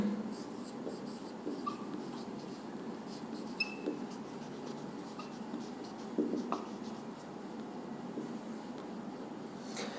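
Marker or chalk scratching across a classroom board during a biology lecture, soft continuous strokes with faint taps, quiet and close, no talk over it.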